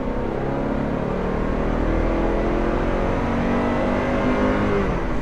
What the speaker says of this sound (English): Clutch in, into second. And she pulls hard.